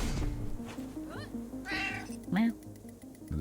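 A cat in the Lia: Hacking Destiny video game gives several short meows and one rising, caterwaul-like cry over game music and ambience.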